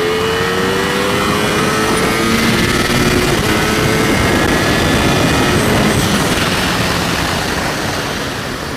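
A Ducati Panigale V4 Speciale motorcycle accelerating hard, its engine note climbing in a loud, continuous high-revving whine over heavy wind rush, with no speech heard.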